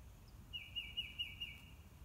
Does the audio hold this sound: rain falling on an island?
no